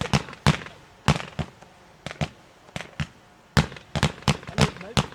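Closing fireworks display at a 2020 Röder preliminary shooting festival, with about a dozen sharp, loud bangs spaced irregularly, some arriving in quick pairs, each followed by a brief decaying tail.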